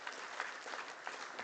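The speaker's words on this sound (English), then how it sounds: "Can we have another resounding round of applause for our guest speakers?" Conference audience at an arbitration week event applauding guest speakers, a brief, faint burst of steady clapping heard from a distance in a hall.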